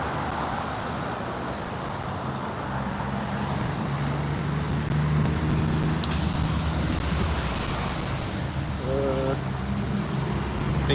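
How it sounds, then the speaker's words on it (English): A garbage truck rolls past on a residential street, its engine a loud, steady roar amid other traffic, with a sharp air-brake hiss partway through and a rising engine whine near the end. "Here comes the garbage truck."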